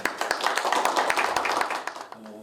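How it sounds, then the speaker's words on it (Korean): Audience clapping at a Seoul Metropolitan Council youth policy meeting welcomes a speaker: dense, close hand claps with distinct sharp hits that thin out near the end. "박수로 맞이해 주시기 바랍니다"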